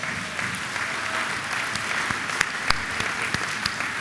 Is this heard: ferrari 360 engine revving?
no